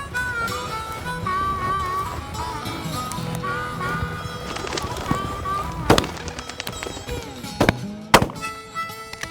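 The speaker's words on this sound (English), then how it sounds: "Good shot, Al." Shotgun blasts ring out while hunting sage grouse, with a few sharp loud reports near the end. Voices and other outdoor activity are heard beforehand.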